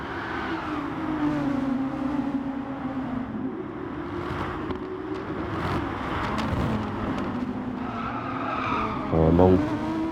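Race cars in a racing video game slide and skid through a corner, a sustained tyre squeal layered over droning engines, with a louder burst of revving near the end.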